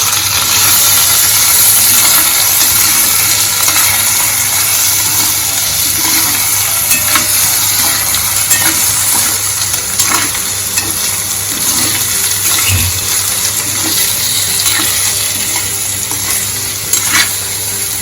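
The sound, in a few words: stirring and roasting potatoes with chilies in a pan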